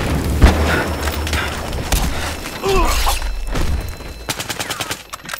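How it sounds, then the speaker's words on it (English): A grenade blast in the shooter game Battlefield Hardline, a deep boom at the start followed by crackling gunfire bursts and a clattering rattle of shots near the end, with voices shouting over the chaos. "Watch out, grenade!"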